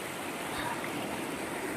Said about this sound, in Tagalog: yung dugtungan ng dalawang ilog